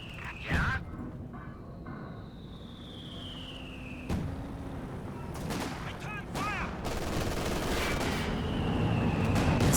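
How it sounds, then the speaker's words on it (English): Bursts of incendiary rounds fired in Company of Heroes 2 crackle through a busy battlefield mix, with sharp transients and sustained rattling gunfire building louder toward the end. "Incendiary rounds being utilized"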